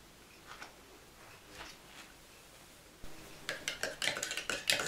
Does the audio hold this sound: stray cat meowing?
no